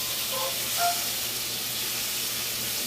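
Lamb chops grilling over high heat give off a steady, loud broadband hiss and sizzle, constant throughout with a couple of faint brief tones near the start.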